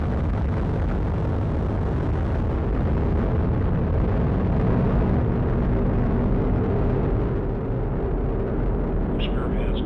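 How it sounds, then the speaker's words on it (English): Atlas V 421 rocket carrying the NROL-52 reconnaissance satellite lifting off, a loud, continuous, broadband roar and rumble filling the whole stretch, steady and powerful with no breaks. "Liftoff of the United Launch Alliance Atlas V rocket carrying the NROL-52 mission for the National"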